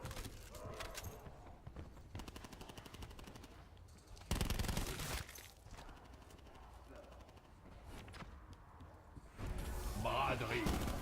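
Quiet rapid gunfire rattles against zombies in Call of Duty Black Ops 4 Zombies mode, with bursts of repeated shots and game noise under a player's talking.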